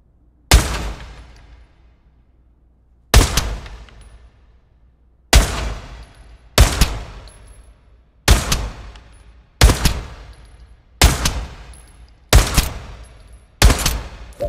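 A gun fires at targets in the VR shooter Pavlov. Nine loud, close single shots ring out at irregular intervals of one to three seconds, each with a short decaying tail and silence between.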